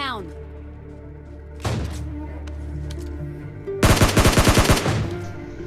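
Gunfire in the battle royale game PUBG: a single sharp shot and then a rapid automatic burst of about ten rounds, heard over game background sound.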